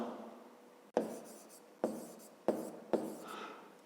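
A pen writing out the answer to a fifth-grade maths exercise on paper: quiet, close scratching broken by four sharp strokes about a second apart.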